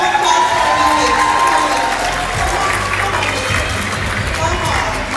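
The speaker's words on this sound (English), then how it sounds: "How about a round of applause for the ladies?" An audience at a women's empowerment pageant applauds the young ladies on stage, a loud continuous wash of clapping with some cheering and crowd voices mixed in.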